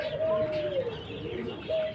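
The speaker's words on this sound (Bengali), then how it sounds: "এই যে দেখুন পাকিস্তানি কবুতর, মাশাআল্লাহ" Soft coos of Pakistani high-flying pigeons, a low throaty call repeated a couple of times, close by over a faint background hum.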